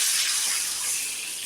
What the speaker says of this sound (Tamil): எந்த கப்பால் ரவை அளந்தோமோ அதே கப்புக்கு 4 கப் தண்ணி ஊற்றிக்கோங்க